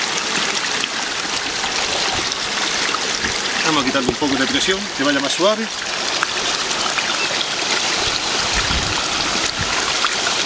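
Water rushes steadily through a traditional Arab-built irrigation channel near Granada, a continuous broad flowing noise, with someone talking briefly over it.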